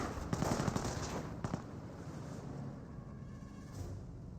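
MG42 machine gun firing in the Company of Heroes strategy game, short rapid bursts that are dense early then thin into scattered distant cracks under general battle noise, no voices.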